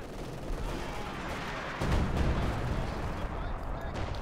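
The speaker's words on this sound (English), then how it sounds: "Artillery strikes there." Artillery strikes in the World War II strategy game Company of Heroes 2, heard as a dense, continuous rumble of booming impacts and gunfire that swells louder midway, with a commentator's voice over it.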